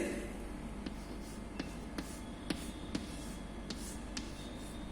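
Pen or pencil writing in a copybook, a series of soft scratchy strokes and light taps close by, quiet and irregular, with no talk.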